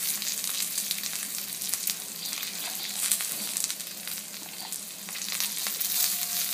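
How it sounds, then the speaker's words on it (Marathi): Garlic and cumin fry in a little oil for a pomfret fish curry, giving a bright, even crackling sizzle close by with small pops and no voices. "थोडंसं तेल घालायचं आहे त्यात, लसूण घालायचं आहे, त्याचं जिरं घालायचं आहे"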